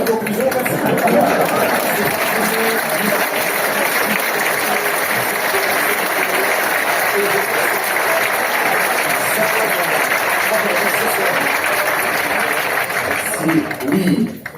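A conference audience claps in a sustained burst of applause, dense and even from start to finish, with some crowd chatter mixed in and a brief swell near the end.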